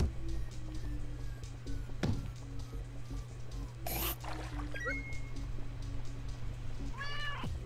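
A rotten apple cat enemy in the video game Turnip Boy Commits Tax Evasion meows several times over steady game music and effects, with a sharp hit near the middle and rising cries toward the end.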